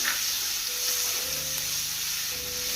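Finely chopped onion sautéing in a pan with garlic and chillies, giving a steady close sizzling hiss of frying throughout, with faint stirring underneath.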